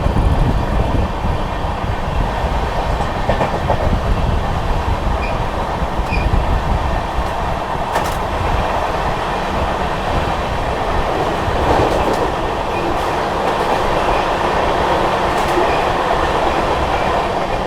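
The Vikramshila Express, running from Anand Vihar to Bhagalpur, passes fast through Vindhyachal station without stopping. The loud, steady rush of rolling wheels and rumbling carriages carries on throughout, with no talk over it.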